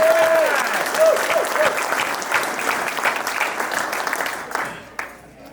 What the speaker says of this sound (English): Please join me in a round of applause for our Harbor Club staff who put out the lunch spread and register.